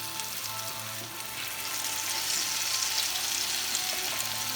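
Polish potato pancake batter fries in a pan with a loud, continuous sizzle and crackle that grows slightly stronger partway through, with no voices.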